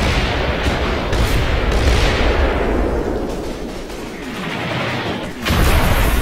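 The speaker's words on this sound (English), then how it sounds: "I'm gonna shoot my Vickers HMGs and the mortars at that." Vickers heavy machine guns and mortars fire in the WWII strategy game Combat Mission, a dense, continuous rumble of booms and rattling gunfire that swells and fades, with a loud burst near the end.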